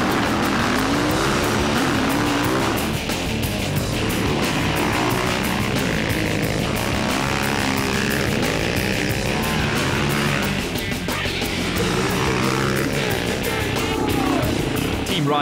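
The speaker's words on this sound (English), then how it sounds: "It was round one winner Brian Baragwanath who led the pack out of the starting gates" Off-road quad bikes racing out of the starting gates at a national off-road quad championship round in South Africa, 2014, with loud, continuous engine roar and rising and falling revs up close.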